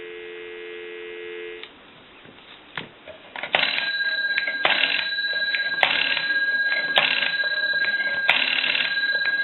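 Dial tone on a repaired NE Galion rotary desk telephone, a steady hum at first, then clicks and a recorded time-and-temperature line with tones and announcement audio overlapping.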